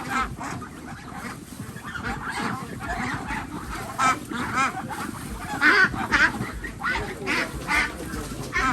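Muscovy ducks being caught in the rain honk and squawk repeatedly in an agitated flurry at close range, with overlapping calls and bustling commotion throughout.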